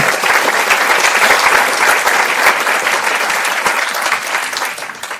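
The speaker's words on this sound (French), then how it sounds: "vous pouvez l'applaudir" Audience at a conference hall applauding to welcome a speaker, a dense, steady wash of many hands clapping that carries on for several seconds before slightly thinning.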